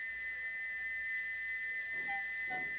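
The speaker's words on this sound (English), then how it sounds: "he wouldn't stop whistling until two fitters climbed up and knocked his whistle valve in place" A single steady, high-pitched steam engine whistle from a stuck whistle valve holds one unchanging note throughout over a faint background hiss.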